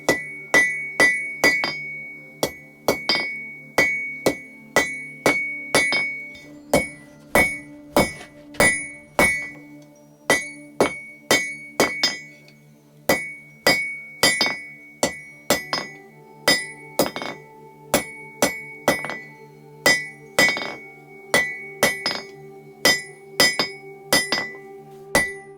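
Hammer blows ring out on the hot end of forged blacksmith tongs being flattened on an anvil, a steady series of sharp metallic clinks with bright ringing overtones, close and loud, with brief pauses between runs of strikes.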